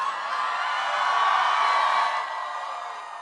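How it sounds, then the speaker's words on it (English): A crowd at a New York campaign rally at Sarah Lawrence College cheering and whooping, a dense sustained roar that swells in the middle and eases off, no speech over it. "What a great crowd."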